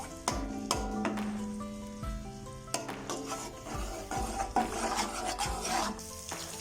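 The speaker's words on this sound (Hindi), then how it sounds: "घी में लहसुन को ब्राउन कर लेंगे।" Garlic fries in hot ghee while a utensil stirs and scrapes the pan, giving a steady sizzle with repeated knocks and rasps. It is close up, with no talking.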